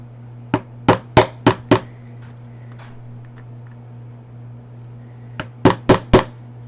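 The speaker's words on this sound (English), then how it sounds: "Where's that hammer?" A hammer flattening a piece of material strikes in two bursts: five sharp, loud, close blows in quick succession, a pause with faint small clatter, then four more hard strikes over a steady low hum.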